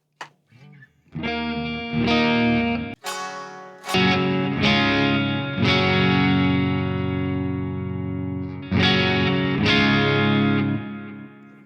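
Clean electric guitar chords ring out with a shimmering chorus effect, several strums each left to sustain and decay, with no talking.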